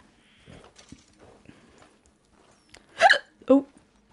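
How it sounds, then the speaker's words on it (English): A character hiccups in Red Dead Redemption 2: two loud, sharp hiccups close together near the end, following quieter game sounds and soft talk. "Just ignore the hiccups."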